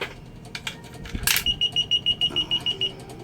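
Coins clatter into a universal coin slot, and the machine answers with a quick, evenly spaced run of about ten sharp, high electronic beeps, close and clear against a quiet room.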